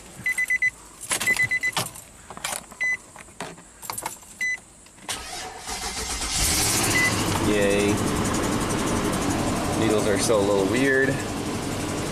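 A few keys jingle and clicks come first, then a Nissan Armada engine cranks and starts, settling into a steady idle that continues, with a slight exhaust manifold tick.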